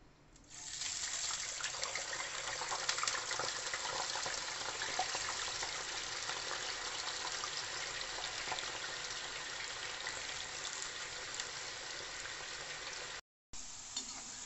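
Raw potato chips for chips mayai drop into hot oil and fry with a steady, loud hiss and crackle that keeps going for many seconds, broken by one brief gap near the end.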